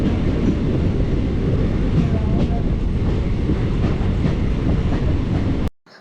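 A Punalur–Tenkasi passenger train runs in the rain along the top of the KIP canal, heard from the open door as a loud, steady roar of wheels and rushing air that cuts off abruptly near the end.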